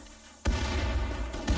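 Explosions in the video game RimWorld go off as sudden heavy booms, one sharp blast followed by a rumbling tail and a second thump about a second later, fairly close and loud.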